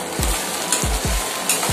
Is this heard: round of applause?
no